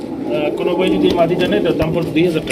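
A female pigeon coos softly in repeated low warbling phrases, close by, while someone talks over it the whole time.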